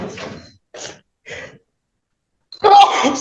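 In a courtroom, a single sneeze bursts out sharply after a few brief, quiet vocal sounds, loud and close.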